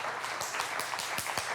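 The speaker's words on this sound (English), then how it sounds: "Give it a round of applause." A studio audience on a polygraph talk show claps for a couple of seconds, a soft, continuous spatter of hands at moderate distance with several sharper individual claps standing out.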